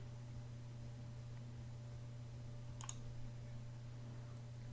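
Computer mouse clicked once, a faint sharp double click over a steady low electrical hum in a quiet room.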